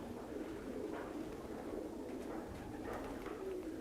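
Racing pigeons in a loft coo softly and continuously, a low murmuring flock sound with occasional fuller coos rising over steady room noise, no talking.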